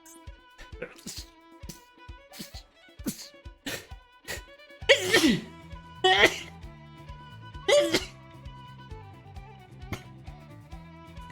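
A person sneezes several times during a card game session, sharp bursts standing out against a background of game music, with people talking around them.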